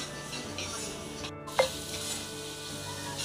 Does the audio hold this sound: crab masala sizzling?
yes